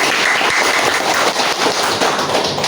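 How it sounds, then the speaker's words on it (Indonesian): Applause at a government work meeting in Sikka regency, many people clapping at once in a dense, close burst of taps lasting a few seconds with no talking over it. "Tepuk tangan dulu untuk Pak Wakil."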